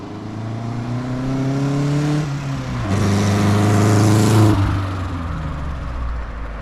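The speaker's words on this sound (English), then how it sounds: "And as you can see, the car runs really," A Mk1 Ford Fiesta converted to a Zetec engine runs close by, its engine note climbing and dropping through repeated revs over a steady idle.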